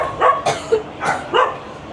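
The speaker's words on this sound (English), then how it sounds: "I think the residents might be annoyed at that dog." A dog barks in a sharp burst of three or four close, loud woofs, heard in a crowded residential building of cubicle rooms in Saigon.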